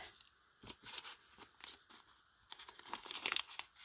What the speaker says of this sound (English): You have to cut them from the top